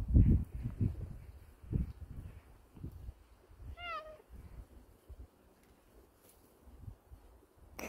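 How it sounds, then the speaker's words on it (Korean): A single short cat meow rings out midway, set against rustling and scattered low knocks and shuffling noises. "야옹 메들리야?"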